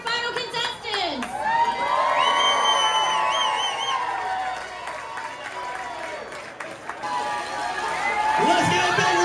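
A crowd at the Key West Hemingway Look-Alike Contest cheers, whoops and shouts for the final contestants, a loud, sustained roar of many voices.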